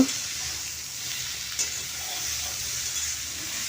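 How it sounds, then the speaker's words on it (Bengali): Flat beans with a little turmeric are stirred in a pan over a lowered gas flame, making a steady frying hiss with soft scraping under it and one brief clink. "এরপর আমি হলুদ দিয়ে দিচ্ছি সামান্য দিয়ে ভালো করে মিশিয়ে দেব"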